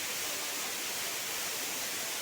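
Water pouring down at Dharampur waterfall, a dense, continuous rushing hiss with no breaks, steady and even throughout.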